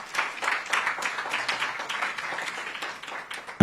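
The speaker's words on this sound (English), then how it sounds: "Let's give a round of applause to the candidate for the responses he has had." Applause for a candidate at a media engagement event for the AUC Chairperson race: a room of scattered claps, moderately loud and steady for several seconds, then thinning.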